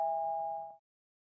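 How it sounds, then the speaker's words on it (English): A doorbell chimes inside the video game Hayarigami 2, a single clear ding-dong tone that rings out briefly and cuts off cleanly, with nothing else beneath it. "We get out of the car and we go up and ring the doorbell."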